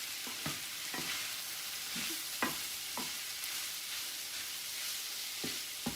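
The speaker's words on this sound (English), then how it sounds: "now I want to mix that up and let that cook in for just a minute" Ground beef fries in a pan with spices while being stirred: a steady sizzle underneath, broken by sharp scrapes and taps of the spoon every second or so, with no voices.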